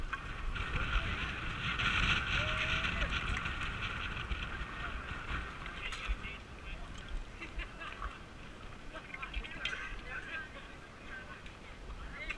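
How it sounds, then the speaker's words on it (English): Wind buffets the microphone outdoors on a mountain course at a Spartan Beast obstacle race in Killington, Vermont, a steady rushing roar that holds loud and close throughout with no clear pauses. "Wind."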